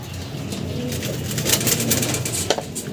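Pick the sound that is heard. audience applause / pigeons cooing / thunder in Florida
pigeons cooing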